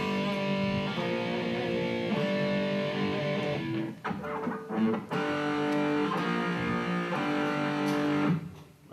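Distorted electric guitar rings out two open strings together, a sustained G power-chord drone struck repeatedly with short breaks and string noise between strums, loud and close with no talking.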